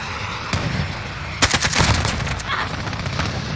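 AK-47 fire in Modern Warfare, a Black Bear legendary variant: a lone shot, then a dense rapid burst of loud automatic rounds with booming echoes, a few more scattered shots after, close and alone.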